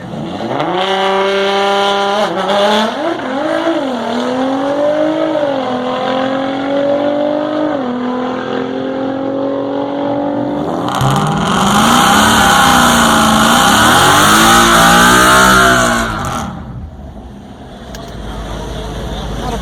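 A 2015 Ford Mustang with an automatic transmission and modified exhaust revs hard through a burnout at a drag strip, its engine note climbing and falling in loud sweeps before a harsher roaring tire-spinning surge, then easing off.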